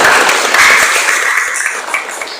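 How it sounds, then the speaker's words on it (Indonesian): A classroom group claps their hands together in a brief, loud burst of applause that fades over a couple of seconds, with no speech over it. "Oke, tepuk tangan."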